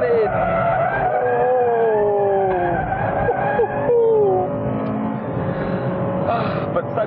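A Honda Integra from 1997 cornering hard in third gear, its engine note rising and falling with squealing tyres, loud and close throughout.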